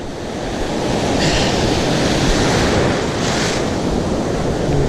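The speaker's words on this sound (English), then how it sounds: "the waves that just rolled in then were actually pretty hefty" Hefty ocean surf rolling in at the shore where a boat is launched, a loud continuous roar of breaking waves mixed with wind buffeting the microphone, with no voices.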